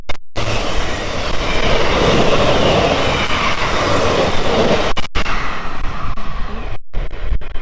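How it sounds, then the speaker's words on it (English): A train rumbles loudly past at close range at Hook on the South Western Main Line, a dense continuous roar of wheels and cars with brief cuts in the sound. "First train of the day."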